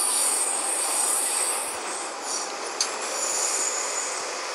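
A Minsk metro train of type 81-717 rolls toward a station underground, a loud steady rumble of wheels on rails with high metallic squeals and a brief clank, no one speaking.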